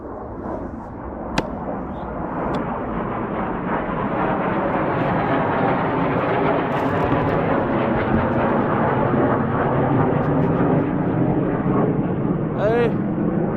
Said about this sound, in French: les rafales rentrent à la maison. Ils rentrent à la maison.